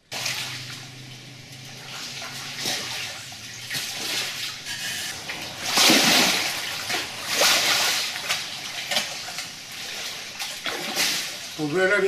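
Floodwater from a heavy downpour rushes across farm fields near a stream and greenhouses, a loud, steady broadband roar with surging splashes, talk underneath.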